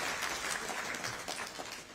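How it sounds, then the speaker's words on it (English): Applause from the audience at the launch of the Tripura Start-Up Policy 2024, a steady wash of clapping that holds at an even level for the full two seconds with no voices over it. "let's us once again give a huge round of applause for this new beginning."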